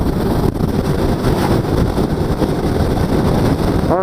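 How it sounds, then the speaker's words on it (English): Strong wind while riding roars and buffets against the microphone, loud and continuous throughout, with no other clear sounds. "I seem to be getting wind from the left."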